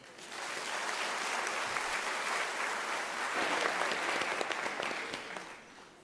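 Graduation ceremony audience applauds in a sustained, even wave of clapping that fills the hall, swelling slightly midway and fading toward the end.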